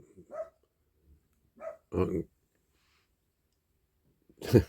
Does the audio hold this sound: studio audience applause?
no